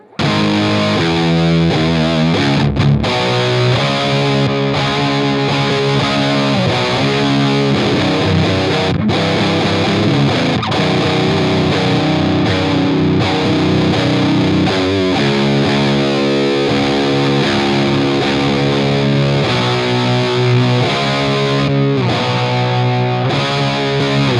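Electric guitar played through a Monkey Riot Backseat Driver dynamic overdrive pedal, loud and continuous with driven chords and sustained notes, a few brief breaks between phrases, no talking.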